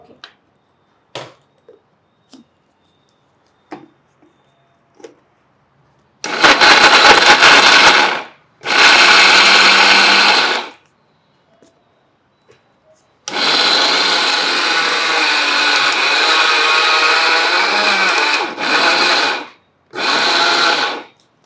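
A mixer grinder blending dates whirs loudly in several bursts of a few seconds each, separated by pauses with faint clicks and handling sounds.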